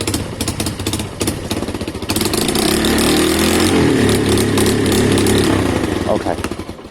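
Keeway motorcycle engine with a freshly cleaned carburetor, idling roughly at close range and then revved to full throttle into a sustained loud roar, with someone talking over it.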